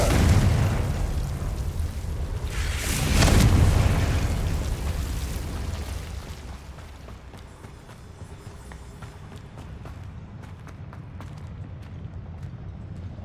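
Confringo fire spell explosion in Hogwarts Legacy, a heavy boom that swells after a rumbling start and then trails off into a long crackling, debris-filled tail.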